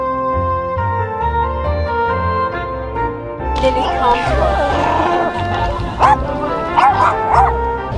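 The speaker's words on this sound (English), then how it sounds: "then the dogs start barking because the swan approaches" Dogs bark and yip repeatedly at an approaching swan by the sea, with sharp close barks over a droning background and overlapping human voices chattering nearby.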